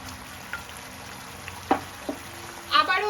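Small fish fritters frying in a pan with a low, steady sizzle, broken by a few soft clinks of a utensil and a brief louder stir near the end.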